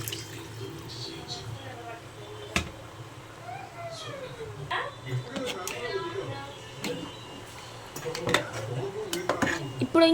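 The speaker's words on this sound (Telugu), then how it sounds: "ఇప్పుడు ఇంకా చేప అయితే ఉడకలేదు కాబట్టి ఒక్కసారి అయితే ఊరికనే అట్లా తిప్పాలి" Fish curry being stirred in a cooking pot with tamarind juice added, giving light clinks and scrapes of a utensil against the pot, with a steady low hum and some faint voices in the background.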